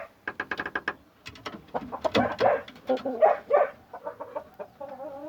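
A tall, heavy-bodied purebred Aseel rooster clucks close by in quick bursts of short calls, rising into a louder, busier stretch of clucking before trailing off into a few softer notes.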